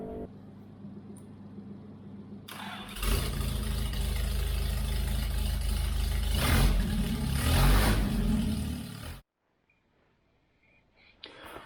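An Austin Healey engine runs during tuning, starting as a quieter idle then roaring into a loud, steady rev for several seconds before cutting off abruptly, leaving near silence with a faint sound at the end.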